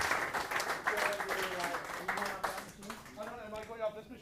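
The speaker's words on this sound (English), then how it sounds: "So let's give a big round of applause," Audience applause at a seminar, a short burst of brisk clapping that tapers off quickly as a voice starts speaking over it.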